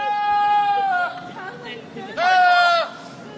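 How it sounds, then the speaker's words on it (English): A goat bleats twice, two loud, drawn-out wavering cries close up, each lasting about a second with a brief pause between them. "That's a goat."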